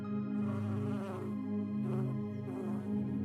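Honeybees in a video game buzz in a steady, close drone with a rich harmonic hum that swells and fades slightly, heard alone.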